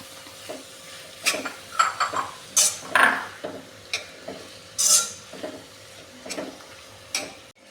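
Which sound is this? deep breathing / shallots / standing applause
shallots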